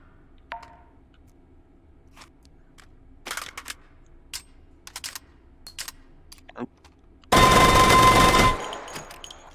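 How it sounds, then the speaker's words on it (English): A Mini Uzi submachine gun fires in a video game: a single dense, loud burst of about a second near the end, following scattered soft clicks and taps, with no voices. "Mini Uzi, that's pretty fast firing rate, although 32 round mag won't last long."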